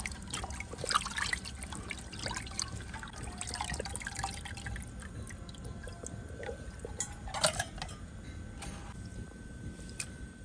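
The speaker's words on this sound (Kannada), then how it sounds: "ಈಗ ಇದನ್ನು ನೀರಲ್ಲಿ ತೊಳೆದು ಕ್ಲೀನ್ ಮಾಡಬೇಕು." Cut fish being washed by hand in water, with soft splashing, dripping and trickling in a quiet kitchen, some sharper slaps of water mid-clip.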